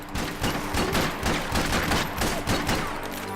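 Rapid gunfire in the video game Max Payne 3 as support pillars are shot apart, a loud close burst of repeated shots in uneven clusters with debris crackle, no talk.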